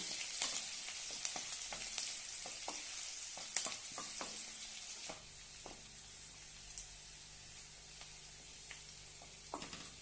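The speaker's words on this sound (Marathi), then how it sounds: "आता यामध्ये एक बारीक कांदा कट केलेला आहे तो घालूया छानपैकी परतून घेऊया" Finely chopped onion sautéing in a pan for a fenugreek and gram flour dish, a steady close sizzle broken by repeated sharp clicks and scrapes of a spoon stirring, quieter after midway.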